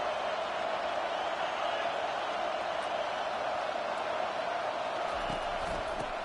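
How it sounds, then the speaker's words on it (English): A large football stadium crowd roars steadily during a third-down defensive stand in a Boise State game, a dense, continuous wall of cheering noise heard from within the stands. "Decibels rising as the crowd gets behind this defense on third down"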